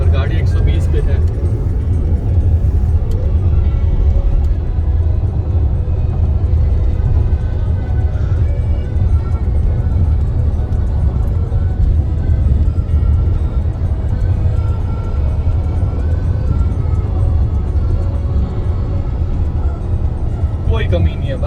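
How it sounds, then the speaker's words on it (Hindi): A Tata Safari SUV cruising fast on a highway at about 120 km/h, with a steady, loud engine and road rumble running the whole time beneath someone talking. "आप एक्सीलेटर पे पैर रखो और गाड़ी भागने को तैयार है"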